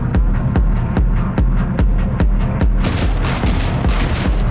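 Shotgun blasts boom in steady rhythm in the twin-stick video game Shotgun Cop Man, about a dozen loud, evenly spaced shots over a continuous noisy backdrop.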